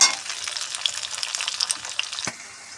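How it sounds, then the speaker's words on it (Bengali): Green peas and cauliflower fry in hot oil, a steady, loud, close sizzle with crackling pops and light stirring throughout, fading a little at the end. "আমি ওর মধ্যে দিয়ে দিচ্ছি মটরশুঁটিগুলো ছাড়িয়ে রেখেছিলাম সেইগুলো। এটাও তেলের সঙ্গে সমানভাবে হালকা করে ভেজে নেব।"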